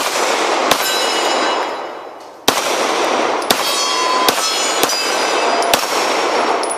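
Shots from a CZ P-09 pistol fired at steel plates, heard as several loud, sharp cracks spaced about a second apart, each with a ringing clang, against constant outdoor wind noise.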